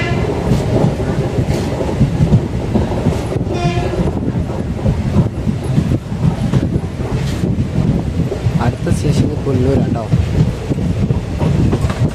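A passenger express on a newly electrified railway line rumbles loudly and steadily, with wheel clatter, rushing wind and a brief horn blast partway through.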